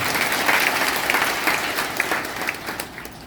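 A crowd claps in sustained, dense applause that stays loud and then gradually tapers off.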